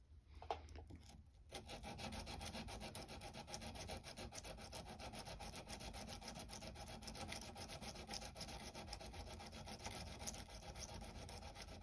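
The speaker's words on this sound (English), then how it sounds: "Use a different piece of the sandpaper." A screwdriver is rubbed against a piece of 150-grit sandpaper in a close, steady rasping scrub that continues almost without pause after a brief handling knock at the start.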